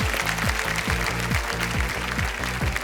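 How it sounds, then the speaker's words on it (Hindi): A studio audience applauds on the Indian quiz show Kaun Banega Crorepati, loud close clapping mixed with a repeated thumping low sound pulsing at a steady beat throughout. "पहले से ही ताली बजिए"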